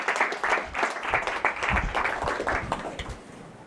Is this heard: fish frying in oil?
no